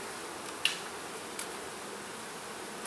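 Honey bees buzz at a single-box hive as a faint, steady drone, broken by a couple of brief clicks.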